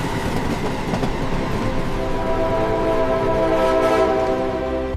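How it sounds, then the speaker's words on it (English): A passenger train runs through the undersea Fehmarnbelt tunnel, giving a steady, loud rumble with rail noise that holds evenly throughout, with no voices. "The first passenger train passing through the tunnel."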